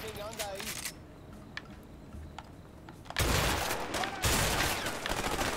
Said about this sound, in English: Sorry, I kind of shot at your cover.